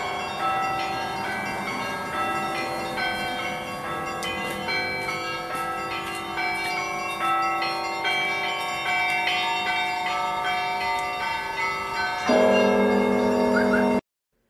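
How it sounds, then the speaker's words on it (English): Church bells ring steadily through the whole stretch, a dense layered peal of struck tones with shimmering overtones, loud and close, with no talking. "Do you hear the church bells?"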